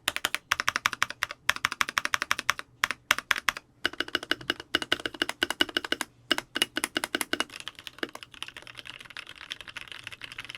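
Rapid typing up close on a VARO V68 mechanical keyboard with Cocoa Silver switches, dense bursts of crisp keystrokes separated by brief pauses, with no one speaking.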